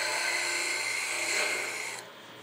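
A segmented three-layer wood blank spinning on a woodturning lathe while material is sanded off, giving a steady high whine and hiss that drops suddenly near the end.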